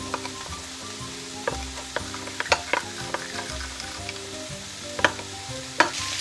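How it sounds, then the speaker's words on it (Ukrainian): Vegetables and other ingredients for rice are stirred in a frying pan, a continuous sizzle with repeated scraping and clinking of the utensil against the pan, close and alone. "Перемішуємо всі інгредієнти."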